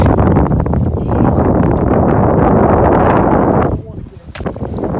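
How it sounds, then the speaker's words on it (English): Strong gusts of wind buffet the microphone on a lake during a bass fishing outing, a loud, continuous roar that suddenly drops away near the end, leaving a few faint knocks. "do you feel that wind?"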